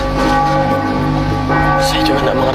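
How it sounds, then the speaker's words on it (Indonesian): A bell tolls steadily with long ringing overtones, loud and close, blended with a dense background wash and no clear talk. "Itu adalah suara lonceng."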